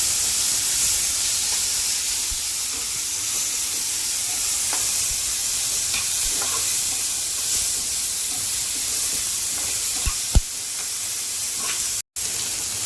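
Capsicum, tomato, green chili and onion frying in a pan, a loud steady sizzle and hiss close up, with occasional stirring taps and no talk.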